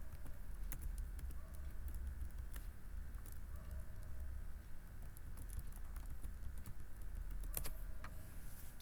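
Quiet clicking from a computer keyboard, with irregular keystrokes and a few sharper taps over a low background hum.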